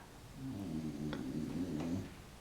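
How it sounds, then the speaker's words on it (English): A dog makes a low, droning grumble or whine, a sustained quiet vocalization lasting about a second and a half with a couple of faint clicks, heard close but soft. "You guys hear my dog?"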